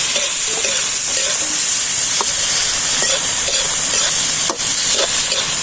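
Sand fleas (tipas) fry in a pan with a steady, loud sizzle and hiss, broken by occasional stirring scrapes and clicks, with no talking.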